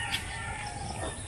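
A rooster crowing nearby, one strained call heard through a steady, noisy outdoor background.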